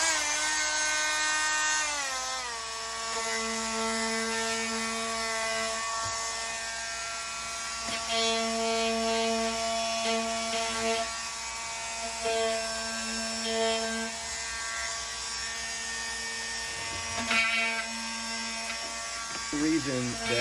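Dremel Multi-Max 50 corded oscillating multi-tool cleaning up edges and corners on a workbench, a steady buzzing whine that runs throughout, with its pitch shifting slightly as it works.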